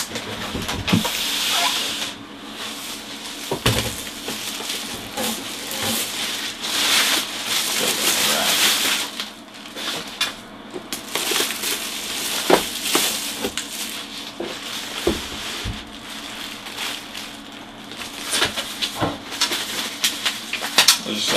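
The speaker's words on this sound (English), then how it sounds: "I'll just unwrap the stand and" Protective plastic packaging crinkled and peeled off a BenQ monitor stand, close crackling and rustling with sharp snaps throughout, a few brief quieter gaps between handling sounds.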